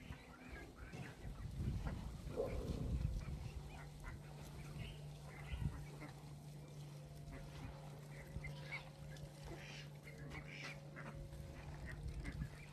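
Domestic ducks kept at a small farm pond quack faintly and intermittently, with soft distant calls over a steady low hum and background noise.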